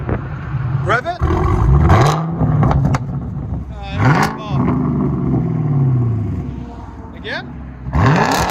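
2016 Chevy Camaro LT1 with straight-piped dual exhaust, several sharp, loud revs that roar up and fall away in a row, close by, with people talking between bursts.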